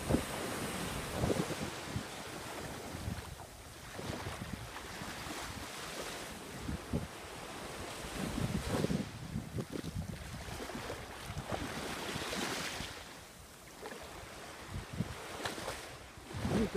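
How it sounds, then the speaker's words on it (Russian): Sea waves wash steadily onto a stony beach at Limassol, a continuous rolling surf with gusts of wind buffeting the microphone, no voices present. "Ну а все побережье это пляж."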